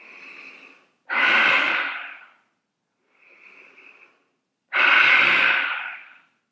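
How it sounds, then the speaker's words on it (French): Deep breathing during a hatha yoga exercise comes in two full cycles, each a soft inhale followed by a long, forceful, open-mouthed exhale, close up with silence between. "Inspirez. Encore 2 fois."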